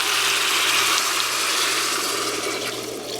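Chicken broth pours steadily into a soup pot holding diced potatoes, turkey and fire-roasted tomatoes, a loud, continuous gushing splash heard up close.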